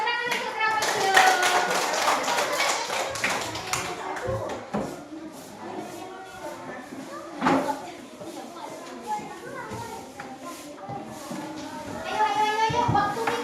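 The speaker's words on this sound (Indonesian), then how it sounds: "Tepuk tangan untuk trapesium." Classroom of students clapping hands together for a classmate, a burst of quick taps with children's voices chattering around it, then scattered claps continuing under speech.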